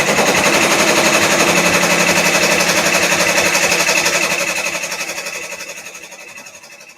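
An embroidery machine stitches an in-the-hoop design on fabric with a loud, steady rapid needle chatter that runs evenly and then slowly fades toward the end.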